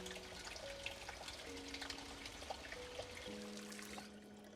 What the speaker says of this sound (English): I'm gonna right click on the sink and I'm gonna fill in the saucepan with water